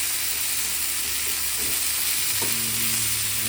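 Fish frying in a pan gives a loud, steady sizzle and hiss. A faint low hum sets in near the end.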